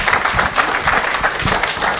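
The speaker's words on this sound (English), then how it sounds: "Let's give ourselves a round of applause" Conference delegates and panelists clap together in a round of applause at a stakeholder meeting, a steady, dense patter of many hands filling a hall for a couple of seconds.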